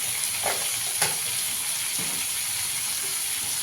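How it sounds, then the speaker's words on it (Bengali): Boiled taro (gathi kochu) fries in a pan, making a continuous bright sizzle and hiss with a couple of soft clicks from stirring, close and alone. "একটু গাঁটিটাকে দিয়ে একটু ভেজে নেবো"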